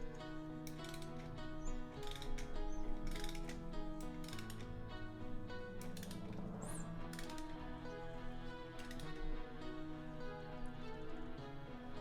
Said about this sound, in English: rotate the crank nut counterclockwise until the extension levels out